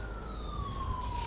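A police car siren wails steadily as one long smoothly falling tone, fairly loud over a rumbling street background in a brief stretch with no speech.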